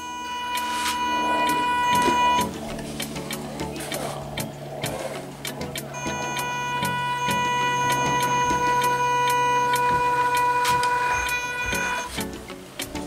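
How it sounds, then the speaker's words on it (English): A 1/12 scale RC Toyota Land Cruiser LC79 (MN82) drives up a ramp, its small electric motor whining steadily at a high pitch, pausing briefly then resuming at a sustained drone, close and alone. "I had to give about half throttle for it to go."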